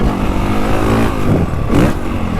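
A 2025 Honda CRF450R Works Edition motocross motorcycle engine drones loudly and steadily, with a couple of rising revs, close by and with no talking.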